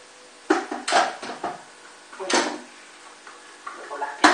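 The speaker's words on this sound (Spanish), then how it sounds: "Y vamos a cerrar la olla." Lid of a GM F electric pressure cooker being set in place and closed, a few clattering metal knocks and scrapes close by, followed by a sharp final click.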